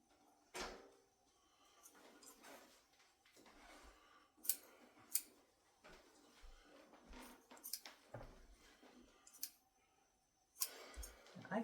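Quiet, intermittent snipping of scissors cutting frozen tomatoes, a series of close, soft cuts and clicks spread irregularly across the stretch.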